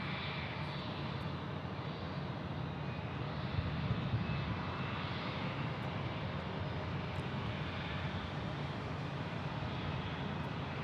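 An arriving Southwest Airlines airliner at Phoenix Sky Harbor Airport gives a steady, distant engine roar that holds evenly throughout with no voices over it.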